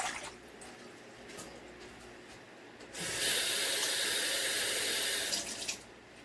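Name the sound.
water poured into a pan for pot roast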